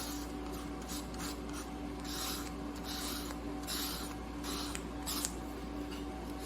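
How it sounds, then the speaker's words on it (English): Cut edges of a small wooden box being rubbed smooth, a steady run of short scraping strokes repeating in a soft rasping rhythm against a low background hum. "just simply rub it on the side and just get all those little pieces of wood to be more smooth"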